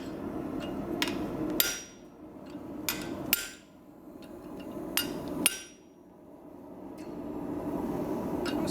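A blacksmith hammers a chisel into hot metal to split it, with sharp ringing strikes coming singly and in quick pairs, loud and close, separated by quieter gaps.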